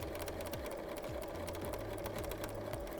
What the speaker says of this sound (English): I'm going to sew right between those little blue marks that I made